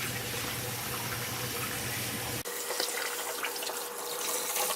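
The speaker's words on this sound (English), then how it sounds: "The water's running clear, so I know that, I'm getting it all out." Tap water runs steadily while a Maltese puppy is rinsed of shampoo at bath time, a continuous close splashing wash that shifts slightly in tone halfway through.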